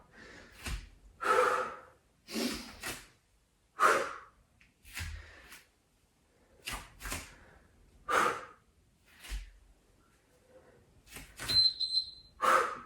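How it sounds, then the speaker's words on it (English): A person doing a yoga HIIT workout breathes out forcefully and noisily, about a dozen sharp breathy exhales in an uneven rhythm, each close and fairly loud, separated by short quiet gaps. "Remember those nice noisy exhales"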